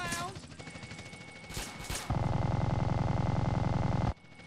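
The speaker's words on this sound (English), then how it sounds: "Thank God I got the minigun." A minigun in GTA San Andreas opening up with a loud, close, continuous rapid-fire roar lasting about two seconds before cutting off sharply, after some earlier scattered shots, with someone talking around it.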